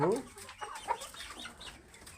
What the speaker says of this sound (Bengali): এটা হচ্ছে বিশ্বের সবথেকে সুদর্শন সবথেকে বড় জাতের একটা মুরগি ফেন্সি মুরগি ব্রাহ্মা মুরগি